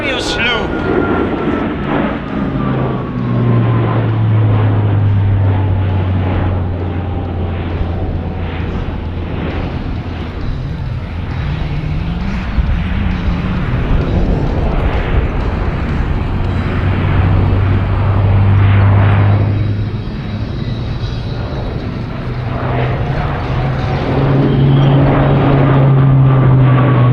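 An Alenia C-27J Spartan twin-turboprop military transport flying a display loop at the Royal International Air Tattoo, a loud sustained propeller drone with rising and falling pitch as it climbs and turns, under heavy wind buffeting and a crowd announcer talking.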